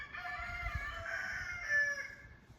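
A rooster crows loudly and close by in one long drawn-out call, with a rough, cackling edge near its end and no other sounds around it.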